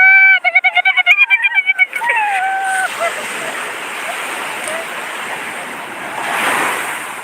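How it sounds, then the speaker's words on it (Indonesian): Large ocean waves at Sumedang beach on Indonesia's south coast surge in a broad, steady wash that swells louder near the end, with a voice over it at the start. "Ombaknya cukup besar."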